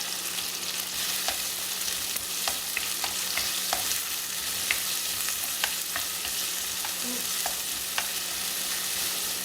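Vegetables frying together in a pan for fried idli, a continuous soft sizzle with scattered light taps and scrapes of stirring, close by, no voices.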